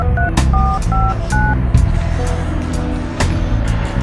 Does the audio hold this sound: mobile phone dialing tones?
yes